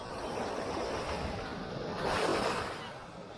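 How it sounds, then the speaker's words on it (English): Heavy surf rolling in at Hollywood Beach, a dense continuous roar of breaking waves with a swell in loudness toward the end, close and loud with some wind buffeting the microphone. "The surf action is heavy."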